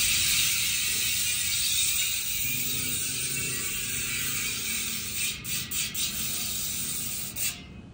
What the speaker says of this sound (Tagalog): makikita nyo at marinig nyo na yung ingay ng hubs natin